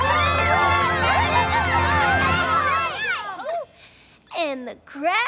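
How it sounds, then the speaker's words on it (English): A ball-game crowd cheers wildly in a loud, dense roar of many voices for about three seconds, then cuts away to a few brief chirpy vocal sounds. "And the crowd goes wild."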